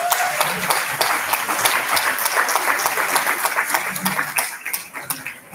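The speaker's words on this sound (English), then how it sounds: "Let's have another round of applause for Jim." A luncheon audience at a heritage society gives speaker Jim a round of applause, many hands clapping in a steady wash that fades slightly near the end, with a voice briefly heard.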